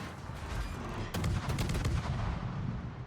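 Ship guns firing in a World of Warships naval battle, a heavy booming salvo that rolls on with a broad rumble, loud and sustained, with no voices over it.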